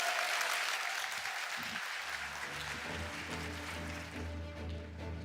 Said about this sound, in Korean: 구청장님께 다시 한번 뜨거운 박수 부탁드리도록 하겠습니다